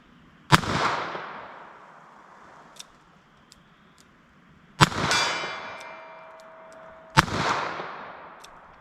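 A .32 S&W Long revolver fires three sharp shots, spaced several seconds apart, at moderate distance. Each shot is followed by a ringing metallic tail, and faint small clicks come between them.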